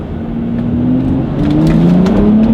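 A BMW X3 35i engine, modified, pulls hard through second gear, its pitch climbing steadily under load, loud and close, with no talking.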